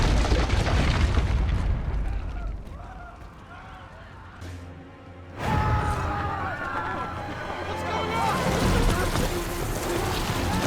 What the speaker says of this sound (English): And then we got interrupted by an explosion